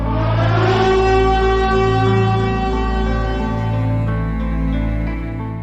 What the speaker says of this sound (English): making the local community aware on how to respond to early warning sirens